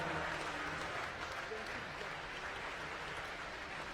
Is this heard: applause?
yes